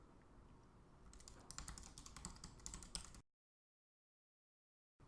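Rapid keyboard typing clatters in quick bursts of keystrokes for about two seconds, then stops abruptly into silence.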